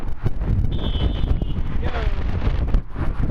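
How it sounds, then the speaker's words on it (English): Strong wind gusting through trees, a heavy continuous rush and buffeting against the microphone, loud and close, with a faint voice briefly underneath. "Those trees are a good marker how strong this wind is."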